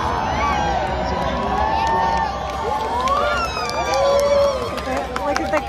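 A large, excited crowd gathered in Cleveland, Ohio, for the total solar eclipse of April 8, 2024, a dense wash of cheering, whoops and shouted voices rising and falling around the listener.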